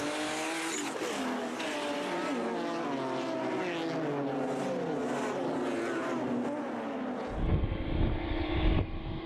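BMW club race cars in a Class D, E and F field roar past on a circuit, engines holding a loud, steady howl with shifting pitch as several cars pass close, ending in a brief rougher burst.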